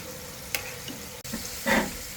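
Chicken frying in oil in a frying pan gives a soft, steady sizzle with a few sharp clinks and a brief louder bubbling burst near the end, and no voices.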